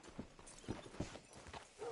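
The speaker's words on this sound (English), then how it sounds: "Hitch your horse up here." Horse hooves clip-clopping at a walk in the Red Dead Redemption 2 video game, several soft, faint, uneven steps.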